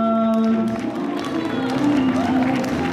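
Applause and cheering from guests at a wedding ceremony, a steady wash of clapping for about three seconds under a loud amplified host's voice and background music.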